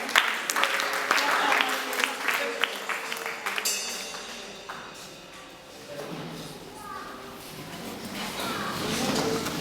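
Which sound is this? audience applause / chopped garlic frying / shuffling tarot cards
audience applause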